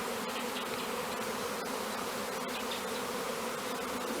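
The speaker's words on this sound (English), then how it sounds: "those are your friends, the bees" Bees swarm and buzz around bait outdoors, a dense, continuous droning hum close to the microphone with no talking.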